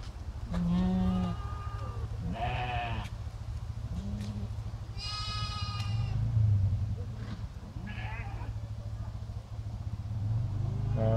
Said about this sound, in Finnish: Sitten tämmösiä kippurasarvisia mufloneja.